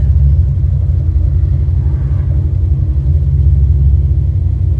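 A freshly built big block engine in a Chevrolet Caprice idles with a steady, deep low rumble, loud and close, holding an even tone throughout with no voices.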